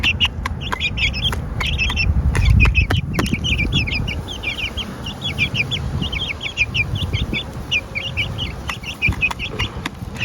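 A Brahma rooster's squawks and clucks repeat in quick chattering bursts over a rumbling, noisy background with occasional sharp knocks, in a backyard farm.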